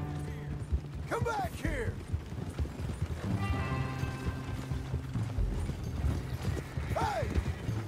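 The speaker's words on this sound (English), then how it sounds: "He's a good horse." Horse hooves clip-clop in Red Dead Redemption 2, a draft horse walking with repeated irregular hoof beats and wagon rattle, under bursts of a voice and whinny-like calls.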